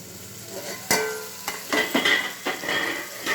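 Curry leaves stirred in a pot of frying spices for bagara rice: a soft sizzle under sharp spoon scrapes and clinks against the metal, coming in a few uneven strokes.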